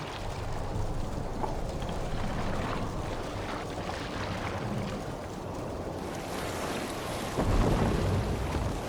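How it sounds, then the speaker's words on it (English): A steady roar of thunderstorm noise in Assassin's Creed Valhalla, rain and rumbling wind with crashing water, swelling louder near the end, continuous with no voices. "Head towards the eye of the storm!"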